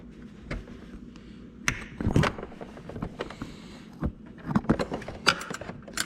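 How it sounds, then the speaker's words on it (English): Tool clicks and ratcheting while a 10 mm mounting bolt for the front brake lines is removed on a 2009 Kawasaki ZX6R motorcycle, a series of short close metallic clacks and taps in an irregular rhythm, with no talk. "Okay, so I'm going to remove this bolt here. It's a 10 millimeter."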